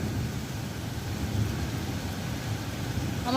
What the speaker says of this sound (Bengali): শুনছেন মেঘের ডাক?